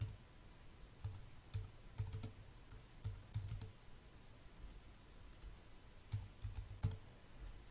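Someone types on a computer keyboard while writing a blog post: quiet clustered bursts of key clicks with short pauses between them, fairly faint and close over low room noise.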